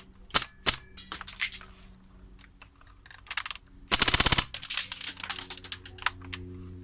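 A JG MP5SD airsoft gun converted to HPA with a 3D-printed engine fires several sharp single shots and then a fast, loud burst of rapid rounds, followed by more scattered shots, close up with no talking.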